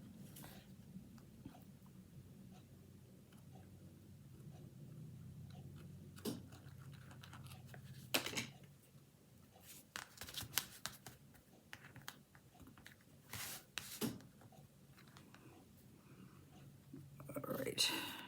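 Greeting card paper being cut by hand, with a scattered run of crisp, close snipping and crunching sounds over a low room hum, and soft talk now and then.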